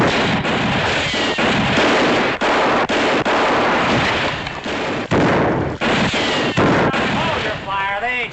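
Dense, sustained gunfire from a Bonanza western TV episode, loud and continuous with repeated sharp cracks and booms over a rumbling battle din, briefly dropping out at moments before resuming.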